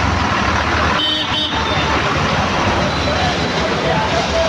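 A red MSRTC state transport bus (Lalpari) pulls into the Friday market at Malvan in Konkan amid loud, steady traffic rumble, with a short horn toot near the start and market chatter around it.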